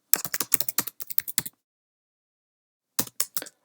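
Keys clatter on a computer keyboard in quick, close bursts of crisp clicks. A short pause falls in the middle, then a few more taps follow.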